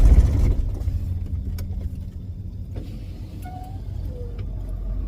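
A van moving through busy Saturday afternoon traffic, with a steady low road and engine rumble throughout and a few faint higher tones and clicks over it.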